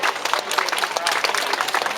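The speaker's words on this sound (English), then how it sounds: "Give them a big round of applause." Dense, steady applause from a crowd at an anti-cuts community rally, a continuous wash of many hands clapping close by for about two seconds with faint voices mixed in.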